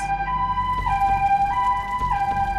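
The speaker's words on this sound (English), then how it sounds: "he heard the sound of ambulance sirens approaching" Ambulance siren from the video game 428: Shibuya Scramble, a clear two-tone wail alternating steadily between high and low pitches, loud and close with no voices over it.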